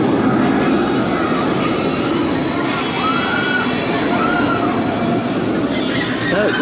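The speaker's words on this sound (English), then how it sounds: "take a ride on the world's longest invert" Banshee, an inverted roller coaster at Kings Island, rumbles along its track with a continuous loud roar and rattling wheels, rising whines over the noise and crowd sounds mixed in.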